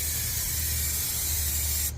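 Aerosol spray paint hisses steadily and loudly at close range while black paint coats fuel system parts on a 1995 Suburban truck, one continuous burst that cuts off at the end.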